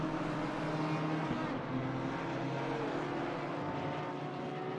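A V12 race car engine in a racing sim game at Kyalami holds a steady, droning whine with sustained tonal bands and a brief dip, heard fairly quietly and alone.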